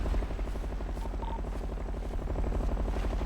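A helicopter's rotor thumps in a fast, steady rhythm with a low engine drone, continuous and close, in the video game GTA.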